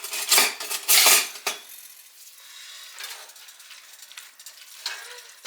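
Canned fire-roasted tomatoes go into a hot frying pan, opening with a few loud clanks of metal on metal and a splash. A soft, steady sizzle follows and holds alone to the end, with another light clink near the finish.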